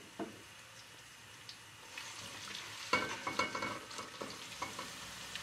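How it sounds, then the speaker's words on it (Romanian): Chopped onion, cut not too fine, frying in oil in a roomy pot with a pinch of salt for a cabbage pie filling. A soft, steady sizzle rises after a quiet start, broken by utensil scrapes and taps as it is stirred; no voices. "Tocați ceapa nu foarte mic și puneți-o la călit."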